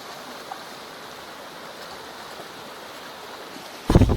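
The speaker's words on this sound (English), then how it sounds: "But look at this river." Water in a secluded mountain river flows steadily as a constant wash of rushing sound, with a brief loud burst of close noise near the end.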